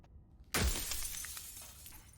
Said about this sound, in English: That sounds worse than the regular glass shattering.